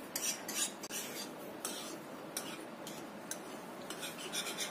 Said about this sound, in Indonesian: Biarkan tetap di atas kompor sambil kita aduk seperti ini.